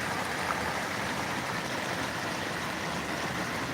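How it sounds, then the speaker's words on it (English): A small waterfall beside a canal gives off a steady, unbroken rush of falling water at an even level throughout, with no voices over it. "this is the little waterfall right here."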